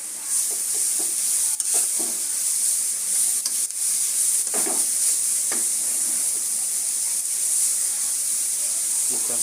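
Grated carrot frying in ghee for carrot halwa, a loud, steady hiss of sizzling fat with repeated scraping stirs of a spoon through the pan, close by.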